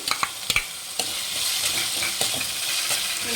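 Capsicum stir-fries in a pan for gobi manchurian: a few sharp spatula knocks at the start, then a steady close sizzle with periodic scraping stirs, no speech.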